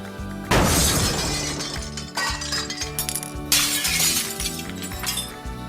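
A ceramic vase falls and shatters on a hard floor, a loud close crash followed by a spray of tinkling shards, then two more crashes and a long trail of clinking fragments settling.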